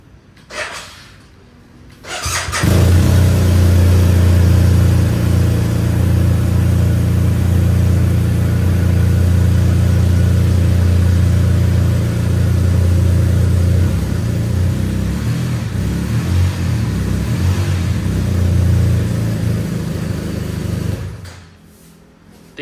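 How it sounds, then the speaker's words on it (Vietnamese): A BMW R1250 RT touring motorcycle runs its engine and exhaust, rising from quiet into a loud, steady, warm low rumble that holds for nearly twenty seconds before cutting off again. "Tiếng động cơ và tiếng bô khá là ấm"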